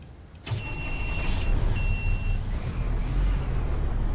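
A Peterbilt 389 truck engine fires up in American Truck Simulator, a quick crank turning into a steady low diesel rumble with a faint cab warning tone above it.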